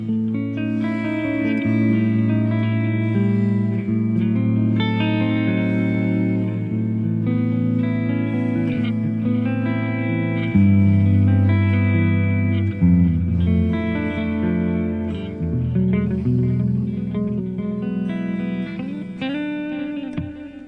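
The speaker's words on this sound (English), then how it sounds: "You buy an amp with a little bit of reverb, and at least it sounds halfway decent." Electric guitar playing sustained chords and melody through an amp, with a wet, reverberant tone, steady and fairly loud throughout.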